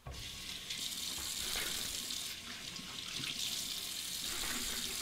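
Tap water runs steadily into a sink, a constant close splashing hiss with no talk over it, as the face is warmed before a straight razor shave.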